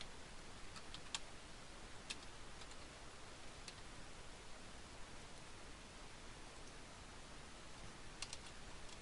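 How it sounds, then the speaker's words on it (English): Faint, steady keyboard typing as a search is entered on a computer, soft scattered key clicks over a constant hiss of background noise, with no voices. "what I'm going to type in here is I'm going to type in bariatric surgery."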